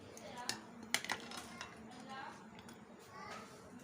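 Fried gulab jamun being stirred in warm sugar syrup in a pan, with soft clinks and scrapes of a spoon against the pan, a few sharper knocks standing out over low background noise.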